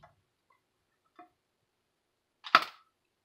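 A part of a food chopper being pushed back into place: a few faint ticks, then one sharp plastic click-snap close up near the end.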